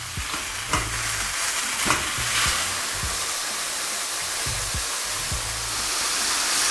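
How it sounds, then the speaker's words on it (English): Mushrooms browning in a frying pan, a bright, broad, steady sizzle that holds throughout, punctuated by several low knocks and scrapes of a utensil moving them around, with no voices. "In the same pan, add in your mushrooms. Again, we're gonna brown these mushrooms and remove the excess water."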